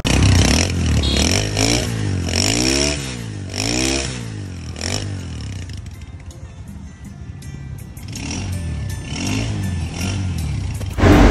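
A small motorcycle's engine, about 120 to 140 cc, is revved close up in repeated rising and falling bursts through its exhaust. The engine drops back to a rough idle between throttle blips, then revs again near the end.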